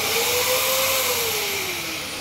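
A Dyson DC07 vacuum cleaner runs just after its power switch was replaced, a loud steady motor whine with a slowly shifting pitch, close by and alone.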